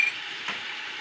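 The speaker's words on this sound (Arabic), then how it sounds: "نخليوها تتقلى" Molokhia sauce with salt and hot pepper is stirred while it fries in a pan, a soft steady sizzle with one brief scrape of the spoon midway, close and alone without talk.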